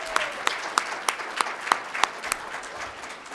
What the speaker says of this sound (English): So let's just give that another applause